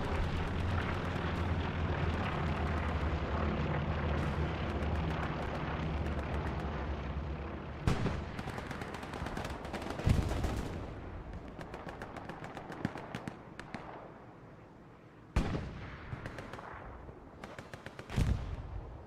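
Artillery and gunfire in the World War II shooter Hell Let Loose during a competitive match: a steady distant battlefield rumble of shelling and small-arms fire, broken by several sharper, nearer explosions and shots.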